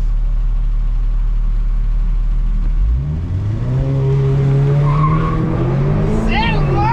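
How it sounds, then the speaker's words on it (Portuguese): A BMW 118i idling low and rumbling, then launching hard under launch control, its engine note rising through the revs with tire squeal and skidding, loud and close. "eu vou sair no launch control, você vai ver"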